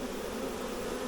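A honey bee swarm buzzing loudly after its branch is shaken, a dense, steady drone of many bees up close with no other sounds.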